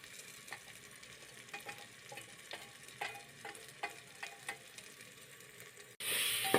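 Spices stir-fried in oil for egg biryani, a soft sizzle with repeated scraping strokes of a spoon at an uneven rhythm, close and quiet, ending in a sudden louder burst of hissing.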